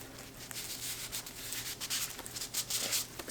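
A wax strip is rubbed and smoothed onto skin during at-home waxing, giving close, soft scratchy rubbing strokes in quick repeated bursts with no talking.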